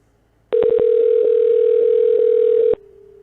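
After a phone call hangs up, a loud steady telephone dial tone plays for about two seconds with faint clicks through it, then gives way to a quieter lower tone.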